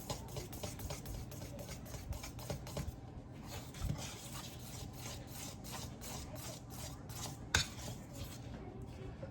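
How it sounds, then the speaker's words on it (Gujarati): Besan (gram flour) batter is mixed with water in a bowl, quiet rhythmic scraping and stirring strokes against the bowl repeating steadily, with a brief knock near the end and no one speaking. "તો બેસનને આપણે થોડું પાણી નાખીને ધીમે ધીમે થોડું આમ મિક્સ કરતા રહીશું"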